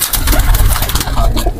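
Pigeons coo close by, soft throaty calls repeating over a muffled, rumbling background.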